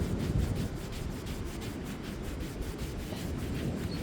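A UV-protective finish being rubbed into wood by hand, with a continuous close rubbing and scrubbing in a steady back-and-forth rhythm.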